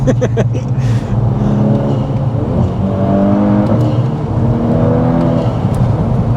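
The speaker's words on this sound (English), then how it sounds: "The exhaust just completely transforms." A tuned Stage 2+ Volkswagen Scirocco R's loud exhaust roars close by, revving up and holding high throttle with rising and falling engine tones, a raspy aggressive note throughout.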